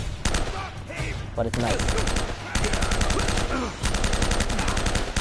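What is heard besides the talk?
M4 rifle gunfire in video game Uncharted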